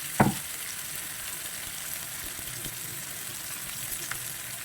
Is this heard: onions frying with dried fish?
yes